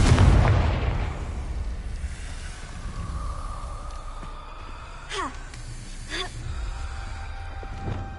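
A Confringo blasting spell explodes in a video game: a loud, close, low boom that rolls out over the first second, then fades into quiet ambience with a few faint magical swishes.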